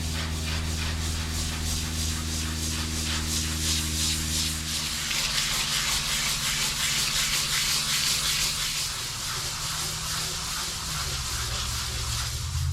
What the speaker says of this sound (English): we're going to go ahead and sand this down